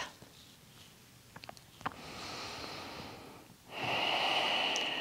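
Slow ujjayi breaths during a gentle hip-focused yoga flow: a long, soft, hissing inhale, then a louder ocean-like exhale, close to the ear, after a few small clicks, no talking.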